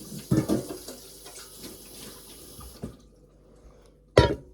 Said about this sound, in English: rinse this bowl out